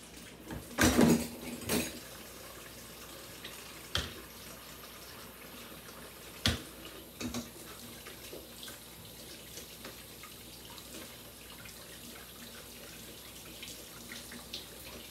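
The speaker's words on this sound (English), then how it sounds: "I'm going to wash my hands." A kitchen tap runs while hands are washed, giving a steady low water hiss with several louder splashes and knocks near the start and a few more scattered clunks later.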